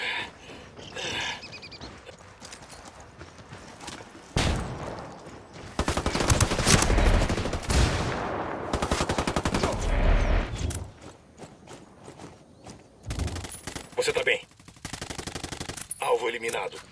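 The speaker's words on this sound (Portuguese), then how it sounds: "Me fudi aqui, estão atirando." Rapid gunfire from a video game PvP match, with bursts of automatic fire and single shots, loud and dense around the middle and trailing into scattered shots, while voices talk in between.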